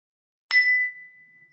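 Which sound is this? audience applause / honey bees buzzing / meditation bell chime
meditation bell chime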